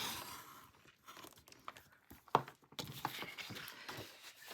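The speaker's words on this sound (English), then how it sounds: "I'm going to use the red blade on the outside edge, and now I'm going to cut a partial oval here." A craft blade cuts a partial oval in paper, making soft scratchy scraping and small tearing crackles in short uneven strokes, close and quiet, with no talking.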